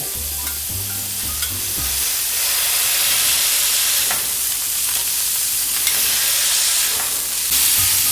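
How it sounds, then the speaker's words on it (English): Smash burger patty sizzling loudly on a hot griddle, with a few dull thuds and scrapes as it is pressed flat, then a steady continuous hiss filling the clip with no talking. "Now the fun part about the smash burger is you get to smash it."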